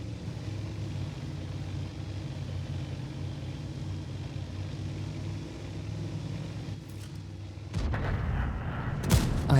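In World of Tanks, a Prototipo 6 tank on the Abbey map fires its cannon. A couple of sharp booming shots land near the end, over a continuous low engine rumble.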